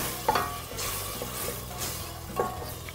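Tomato paste thinned with a splash of water sizzles in a hot pan for a Maghrebi chicken chtitha, with a steady frying hiss, spoon scrapes and stirring clinks close by and no voices.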